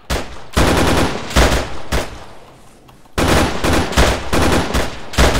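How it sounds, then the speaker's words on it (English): Enemy gunfire in the military shooter ArmA III, loud bursts of automatic fire in several clusters, close and sharp, with a brief quieter lull in the middle before heavy shooting resumes. "Guys are shooting at me."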